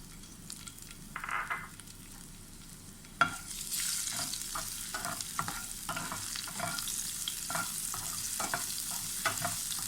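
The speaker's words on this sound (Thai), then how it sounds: "ผัดพริกกระเทียมให้หอม" Chili and garlic stir-frying in hot oil for a mackerel dish: a steady, close sizzle with sharp crackles and repeated scraping stir strokes, building louder after a sudden drop of ingredients into the pan.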